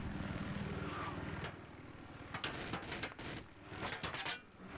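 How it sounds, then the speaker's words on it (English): An attack helicopter in Battlefield 3, a multiplayer match on the Armored Shield map, with a steady rotor thrum running throughout and broken by a burst of sharp, rapid impacts or gunfire near the end. "I cannot cover you guys against the attack helicopter"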